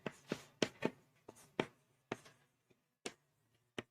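A teacher writes on a board during a classroom lesson, producing a series of short, close tapping and scratching strokes in irregular rhythm, fading to sparse taps.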